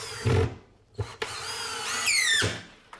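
A power drill drives screws into baseboard mounting brackets: a short whir, then a longer rising whine that falls off, close up, with no talking.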